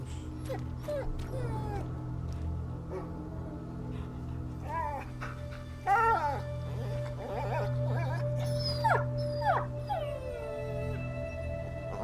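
A dog whimpers and howls in the woods in the video game A Plague Tale: Innocence, with rising yelps and whines over a low ambient drone, moderately loud throughout.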